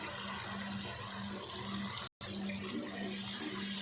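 Water pours steadily into frying masala spices of turmeric, salt, red chilli and coriander powder for masala bhindi, a continuous close hissing splash broken by one brief gap.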